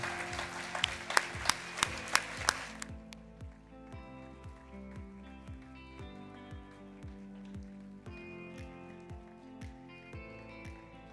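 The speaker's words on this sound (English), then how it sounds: "a massive round of applause" Audience applause for an award winner at a youth work excellence awards ceremony, starting as a loud burst of dense clapping and then settling into steadier, quieter clapping under music.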